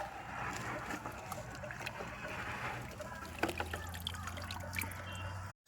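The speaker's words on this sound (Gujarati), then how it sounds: "બે પાણી ધોવું પડે બેટા" Very muddy produce being rinsed by hand in water, giving a steady run of trickling and sloshing splashes with a few sharper drips and clunks toward the end, close by over a low background hum.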